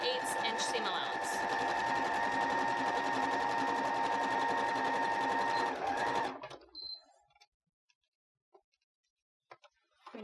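A sewing machine runs steadily and loudly with a rapid mechanical whir, then stops abruptly, leaving near silence with a few faint clicks.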